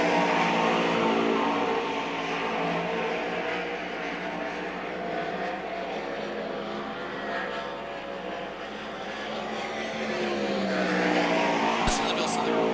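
A 360 sprint race car runs laps on the Knoxville Raceway dirt oval, its engine a steady loud drone that holds throughout before a brief sharp knock near the end.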